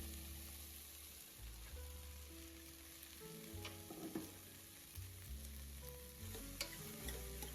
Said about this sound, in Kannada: ಇದು ಎಣ್ಣೆಲಿ ಚೆನ್ನಾಗಿ ಮಗ್ಬೇಕು.